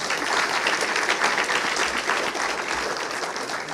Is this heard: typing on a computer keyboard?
no